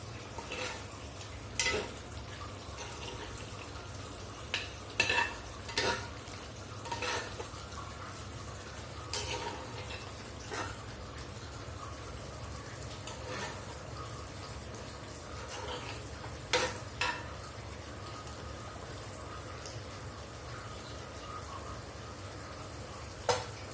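Chicken cooks in a covered pan with a low, constant sizzle, broken by occasional clinks and scrapes as it is stirred. The sound is quiet and close, with no talk.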